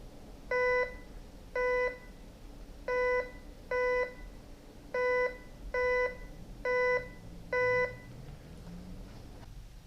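A RM Ricomax GC-1037 metal detector sounds eight evenly spaced, steady electronic beeps over faint background noise, each tone about half a second long, alone and clear.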